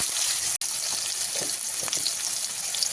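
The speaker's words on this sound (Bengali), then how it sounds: "কড়াইতে দিয়ে দেবো আমি তেল গরম হয়ে গেছে, এবার আমি দিয়ে দেবো শুকনো লঙ্কা, তেজপাতা, দারচিনি, লবঙ্গ, এলাচ।" Dried red chilli, bay leaf, cinnamon, cloves, cardamom and potatoes sizzle in hot oil in a wok, giving a loud, continuous hissing crackle with brief bursts as pieces are stirred.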